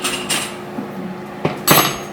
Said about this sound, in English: the first thing is to take the hot jars out of the oven